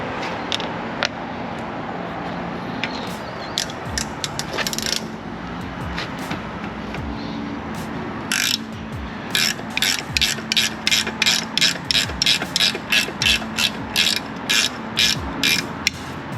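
A ratchet wrench loosens large Allen bolts on the lower unit of a Mercury 200 hp outboard, giving loud, close, rapid clicking in repeated even bursts, with a steady low hum underneath.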